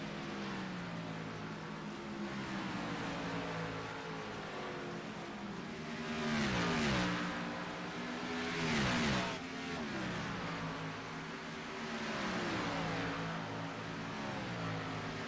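Race cars at Watkins Glen roar through braking and acceleration into turn 1, a continuous loud engine drone with rising and falling revs, several cars audible at once with a couple of louder swells as they pass close.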